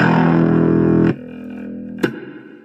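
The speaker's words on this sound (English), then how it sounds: "And if you go to distortion," Heavily distorted bass guitar played through a Nux portable multifunction amplifier, a thick sustained chord cut off abruptly, then a quieter ringing tail and one sharp struck note near the end.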